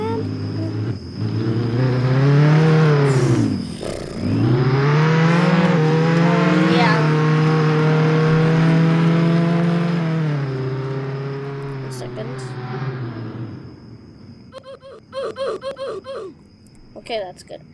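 A Mustang car engine in the Roblox Jailbreak video game revs loudly and steadily, its pitch rising and falling through several long pulls before tapering off, with brief laughter and voices near the end.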